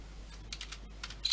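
Light computer keyboard typing, a handful of quick soft key clicks in an irregular rhythm, close and fairly quiet with no talk.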